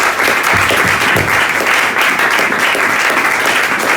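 A church congregation applauds through a Sunday service, steady broadband clapping that stays loud and even from start to finish with no voices standing out.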